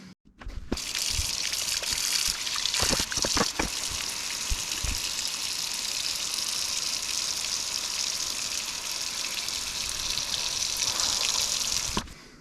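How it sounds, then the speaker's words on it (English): Warm water runs steadily from a tap into a plugged kitchen sink, a continuous gushing splash that stays even for about eleven seconds and then cuts off, with no talking. "put the plug in, put warm water in"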